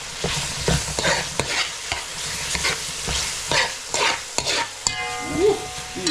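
Saltfish cooking in a pot for Jamaican ackee and saltfish, with a steady close sizzle broken by repeated scraping and stirring knocks of a utensil against the pot.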